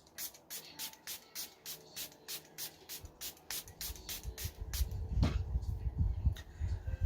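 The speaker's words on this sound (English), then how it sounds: "I'm gonna spray down my face with this" A makeup setting spray bottle spritzes in a quick, even run of about a dozen short hisses, followed by soft rustling and handling noises.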